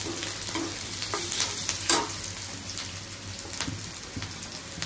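Onion frying in a pan gives a dense, close sizzle broken by scraping stir strokes and a few louder clatters, with no voices present.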